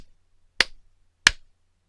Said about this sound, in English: clapping 3 times loudly near the mic